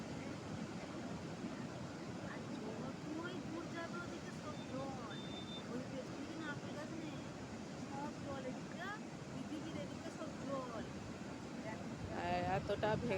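Sea waves break continuously on the beach at Puri, a steady roaring surf with wind buffeting the microphone, while a voice talks faintly over it throughout.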